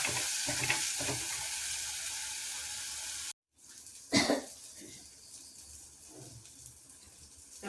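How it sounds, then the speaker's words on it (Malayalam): Masala fries in oil in a pan for a fish curry with sardines, making a steady close sizzle. It drops out for a moment, then a louder crackling burst follows and the frying continues. "ഇപ്പോൾ മസാലയൊക്കെ മൂത്തിട്ടുണ്ട് നന്നായിട്ട് എണ്ണ തെളിഞ്ഞിട്ടുണ്ട്"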